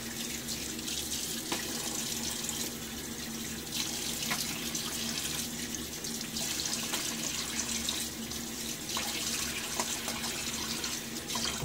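A sink tap runs in a steady rush for rinsing off after a wet shave. Soft splashes break the flow now and then, and no one speaks.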